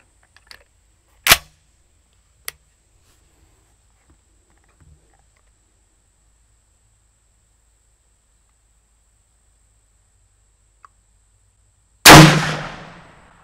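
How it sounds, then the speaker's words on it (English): A .410 Remington rifled slug fired into gel: one sharp, loud gunshot crack near the end with a short decaying tail, preceded by a few faint clicks and handling knocks in an otherwise quiet setting. "I'm going to start out with the Remington rifled slug."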